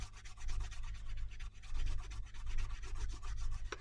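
Paper edges in a junk journal rubbed fast and steadily for grunge, a close dry swishing scrape in quick rhythmic strokes over a low steady hum.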